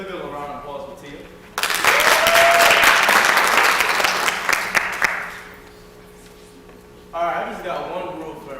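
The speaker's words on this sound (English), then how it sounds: "Look at round of applause for Tia." Audience applause at a gospel show bursts in loud and dense, with cheers mixed in, then fades away. Voices talk before and after it.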